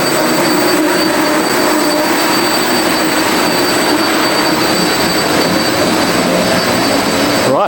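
Three Caterpillar C9 generators, 250 kilowatts each, run in the engine room of a 240-foot superyacht, making a loud, steady mechanical roar with a constant high whine and no break throughout.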